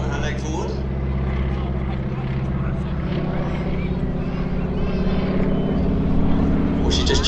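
A wing walking display aircraft at Sywell Airshow flies past slowly from left to right, its steady engine drone loud and continuous throughout under a commentator's voice.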